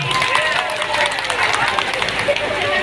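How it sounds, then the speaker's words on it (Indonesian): Outdoor crowd applause at a community gathering in a flower garden in Magetan, a dense, continuous patter of clapping mixed with voices and crowd chatter. "Tepuk tangan untuk semuanya."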